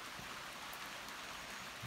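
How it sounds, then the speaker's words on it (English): Steady rain falling in New York, a soft continuous hiss of drops on surfaces, faint and even throughout with no voices. "It's raining in New York."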